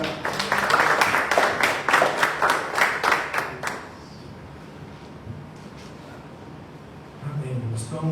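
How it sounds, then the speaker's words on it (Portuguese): A church congregation applauds during a worship service, a burst of rhythmic, fairly loud clapping for about four seconds that then stops abruptly, leaving quiet room tone and a voice. "Você que pode aplaudir ao Senhor."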